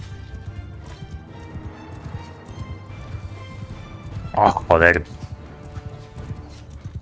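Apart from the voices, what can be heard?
horse hooves galloping in video game Mount & Blade II: Bannerlord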